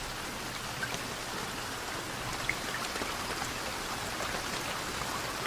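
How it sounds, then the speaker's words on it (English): Steady rain falls in the survival video game BugOut, a continuous even hiss of drops with no pauses, filling the scene at moderate level without talk. "you're going to see it's going to start to rain a little bit."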